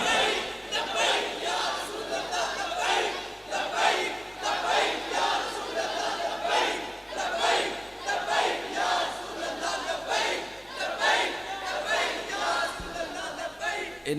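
A large crowd at a religious gathering in Punjab shouts slogans in loud rhythmic unison, repeated waves of massed voices rising and falling across the whole stretch.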